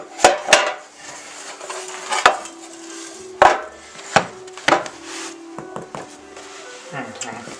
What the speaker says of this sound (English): Knock 3 times.